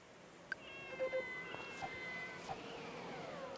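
A cat in the farming game Friends of Mineral Town gives a few short meows, close and fairly clear over a soft steady background hum, with no talking.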